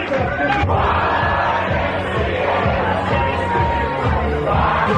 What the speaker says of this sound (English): And the loudest cheer came from Team Discovery!